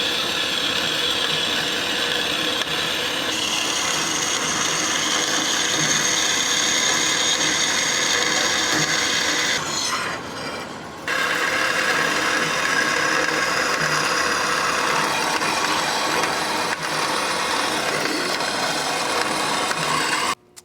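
A 3/8 inch thick metal plate being cut with a power saw, with a loud, steady grinding, rasping whine that runs continuously, briefly dips about halfway through, then resumes until the end.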